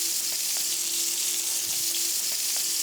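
A lamb cutlet pan-frying in olive oil and a little butter gives a loud, dense, unbroken hiss of sizzling fat with faint occasional pops and a low steady hum underneath.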